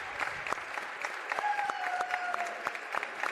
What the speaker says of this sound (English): Let us come together and applaud Coach Morong